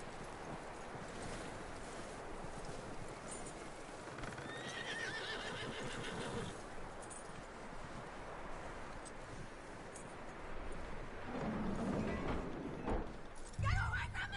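A horse in the Red Dead Redemption 2 video game whinnies and clops its hooves over a steady outdoor wind-like background, with game voices talking intermittently.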